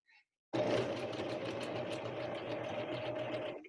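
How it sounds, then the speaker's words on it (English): A sewing machine runs continuously for about three seconds, stitching a fabric mask over a pipe cleaner while the fabric is gently pulled. The motor whirs close and steady after a brief tap and a pause. "I was gently pulling to make sure the machine keeps moving over the pipe cleaner"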